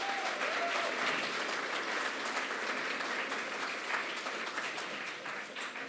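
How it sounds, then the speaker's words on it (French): Audience at an eloquence tournament evening applauds loudly as the next candidate is introduced, dense sustained clapping from a large crowd that tapers slightly toward the end, with faint voices beneath. "ce sera Léane Becken, qu'on applaudit très fort."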